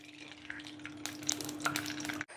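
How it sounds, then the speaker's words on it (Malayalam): Oil goes into a hot pan before small vadas are fried, giving a quiet, close sizzle with light crackles and a steady background hum, then cutting off abruptly. "നമുക്ക് ചട്ടി ചൂടായി എണ്ണ ഒഴിച്ചു കൊടുക്കാവേ"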